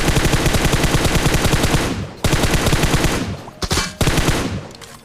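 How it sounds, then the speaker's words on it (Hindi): Rapid bursts of automatic gunfire from a battle royale video game, loud and continuous, with a brief gap near the two-second mark and a few sharper cracks toward the end. "इतने देर में मेरे को कुछ फायरिंग साउंड आता है दूर की तरफ से"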